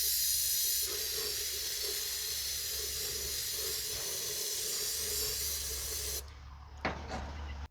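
A can of brake or carb cleaner sprays in one long, continuous hiss while working on a 1978 International Scout II diesel, close and steady, then cuts off abruptly before a few faint clanks.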